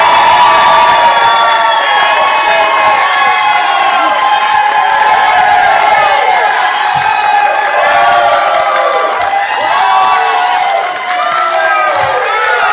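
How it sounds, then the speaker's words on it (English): A debate audience at the New Jersey Republican gubernatorial debate roars as a candidate is introduced, with loud, sustained cheering, whoops and clapping filling the hall throughout. "the one and only time to show your appreciation with applause"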